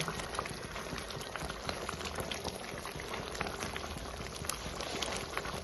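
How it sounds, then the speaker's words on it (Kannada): Cashew masala curry bubbles in a pot, a steady, dense simmering crackle with scattered pops throughout, fairly quiet and close, with no talking. "ಕಾಜು ಹಾಕಿ ಒಂದು ನಿಮಿಷ ಕುದಿಸ್ಕೊಂಡ್ರೆ ಸಾಕು ನೋಡ್ರಿ ಕಾಜು ಮಸಾಲೆ"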